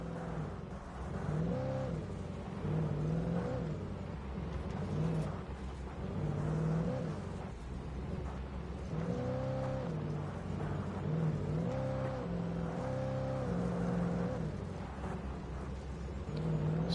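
A car engine in the video game Alan Wake drones and repeatedly revs up and down in smooth, rising and falling surges, steady and close, with no talking.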